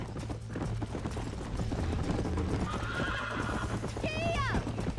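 A horse gallops in Red Dead Redemption, its steady hoofbeats running throughout under a continuous hum of ambience, and a loud neigh breaks out near the end.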